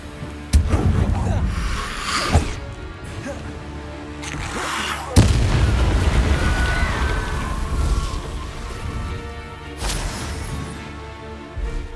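In Hogwarts Legacy the Incendio fire spell goes off in several booming, fiery bursts with whooshing flames. The blasts land a few seconds apart and are loud and close, and a voice speaks among them.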